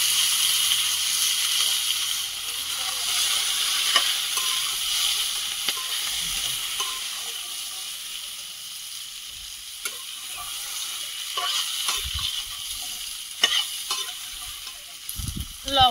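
Bay leaf, panch phoron, pumpkin, potato and Malabar spinach stems fry in oil, a bright steady sizzle that fades gradually, broken by spatula scrapes and clanks against the pan, louder knocks near the end, close and without speech.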